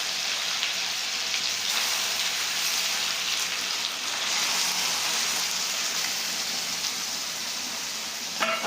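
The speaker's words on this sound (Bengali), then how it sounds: "এবার আমরা মাছের তেলগুলো দিয়ে দিচ্ছি।" Fish fat pieces dropped into well-heated oil fry with a steady, dense sizzle and crackle, loud and close, holding evenly throughout with no talking.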